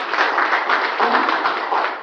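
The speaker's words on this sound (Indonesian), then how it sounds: "Boleh dong tepuk tangan ya?" An audience in a seminar hall applauds, dense steady clapping that holds at an even level without a break for about two seconds.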